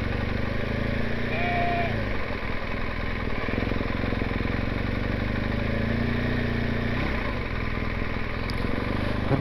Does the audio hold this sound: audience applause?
no